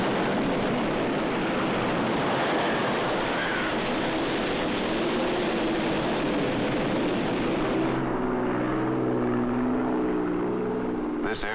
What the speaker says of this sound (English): This airplane is heading toward a hurricane.